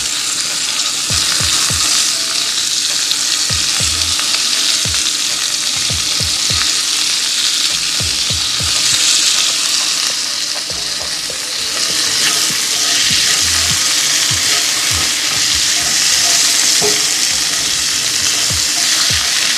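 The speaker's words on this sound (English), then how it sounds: "go ahead and add your asparagus in" Asparagus spears sizzling and frying in hot oil in a stovetop pan, a loud, steady crackling hiss with occasional stirring knocks underneath, and no talking.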